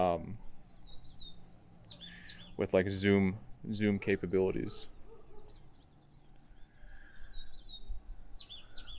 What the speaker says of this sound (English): I can hear them. I can hear the birds.